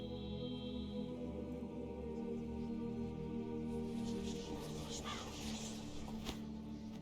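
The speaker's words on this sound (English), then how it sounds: "What was that? A raven?" Raven cawing in the video game The Witcher, a few faint calls over a steady humming game ambience.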